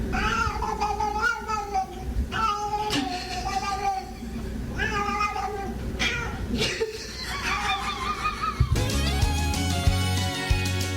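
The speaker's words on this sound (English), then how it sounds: "This cat can sing the blues, but only when someone scratches the right spot." A cat meows and caterwauls in long, wavering, song-like yowls, loud and close, with a human voice and some laughter mixed in, then a burst of music at the end.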